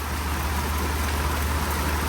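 Heavy rain coming down hard and steadily, a dense, even hiss of falling water with a low rumble beneath, continuous and close with no voices.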